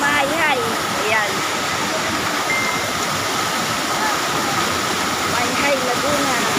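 Continuous roar of flowing water in Laguna, loud and close throughout, with people talking and calling out briefly over the constant rush.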